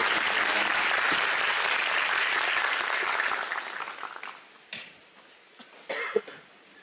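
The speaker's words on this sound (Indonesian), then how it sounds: "Kita beri tepuk tangan untuk Pak Dubes." Audience applause for an ambassador at an Indonesian talk, a dense steady clapping that fades after about four seconds into scattered claps and a few coughs.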